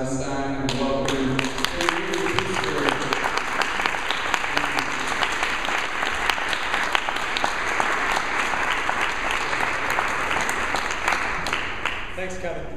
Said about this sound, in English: I'd like to give a round of applause for Charles Eisenstein and welcome.